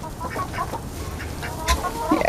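A big male turkey in a fruit garden, near a warm compost pile with ducks close by, gives a few short, fairly close gobbling calls over light background noise.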